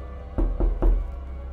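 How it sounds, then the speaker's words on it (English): Three firm knocks at a house door at night, evenly spaced and close, heavy and thudding in a quiet room. "Then I hear a knock at the door."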